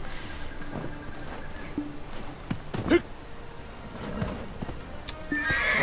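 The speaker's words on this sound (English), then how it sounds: "A horse can roar. What does a horse roar sound like?" A horse in the game Black Desert Online neighs in a short whinny amid scattered hoof clops and faint background noise, with a louder rush building near the end.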